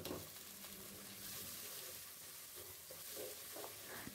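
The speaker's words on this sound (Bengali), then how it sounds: "এখন পেঁয়াজ কুচি আর রসুন বাটা দিয়ে দিচ্ছি" Chopped onion and garlic paste sizzle in hot oil for a Bangladeshi khichuri, a steady close crackling fry with faint stirring and no talking.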